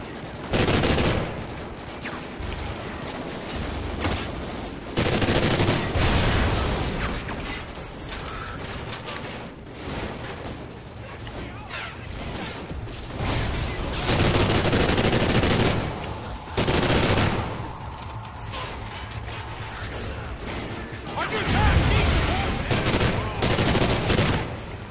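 Automatic fire from a 74U in the shooter game Call of Duty Ghosts, loud repeated bursts of rapid shots with short pauses between them, plus mechanical clatter.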